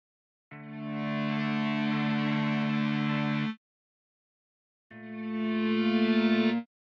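EBow guitar from the Vir2 Apollo 2 sample library, recorded through an amp with dry signal: two sustained, bowed-sounding buzzy tones with soft attacks, the first about three seconds, the second shorter with a slight pulsing wobble, separated by silence.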